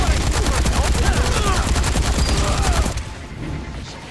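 Loud, rapid automatic gunfire in the zombie video game Dead Rising 3, played in co-op, rattles in dense bursts for about three seconds before cutting off abruptly into a quieter tail.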